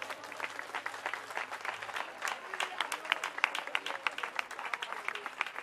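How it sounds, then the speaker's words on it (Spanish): A church congregation applauds, with dense, steady clapping from many hands filling the room at moderate volume throughout. "Dele aplauso al Rey."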